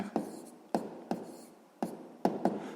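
Pen or marker strokes on paper or board while working a sixth-grade math exercise, five or six short taps and scratches spaced irregularly, close and moderately loud, with no talk.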